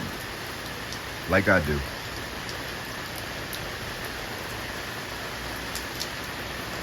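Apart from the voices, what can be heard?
rain falling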